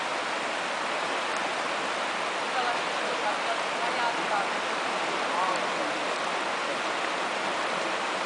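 Steady broadband rush of Yosemite waterfall water pouring down in cold rain, a continuous even roar with no breaks, filling the scene without voices.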